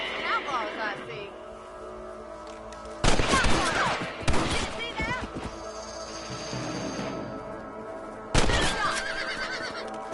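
Gunshots ring out in the Western video game Red Dead Redemption as rabbits are hunted: two loud, sharp bursts several seconds apart, with a horse whinnying and voices talking around them.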